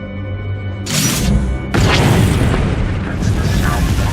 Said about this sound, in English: That's the sound of my flux cannons incinerating one of your capital ships.